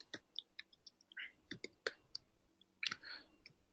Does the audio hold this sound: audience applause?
no